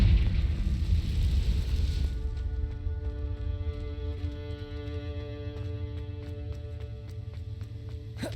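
A fire-spell explosion in the game Hogwarts Legacy opens with a loud, broad rumbling burst for about two seconds, then settles into a steady low hum with scattered faint crackles.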